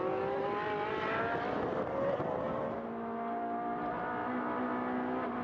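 Ferrari Challenge race cars lapping the Portimao circuit, engines howling and shifting pitch as several cars accelerate and pass, heard at a moderate distance without commentary.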